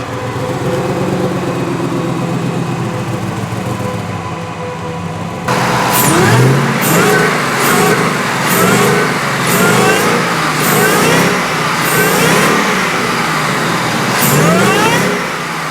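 Supercharged all-wheel-drive Ford Mustang engine idling steadily, then loudly revving in a series of repeated blips, each rise carrying a high supercharger whine, close and with no talking.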